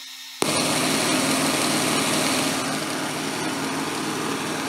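Simulated engine sound from a GT Power sound effects system for RC cars and trucks, kicking in abruptly and then droning steadily at a high, buzzy idle, fairly loud with no talking.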